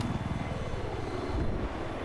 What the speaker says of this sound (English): they got an attack helicopter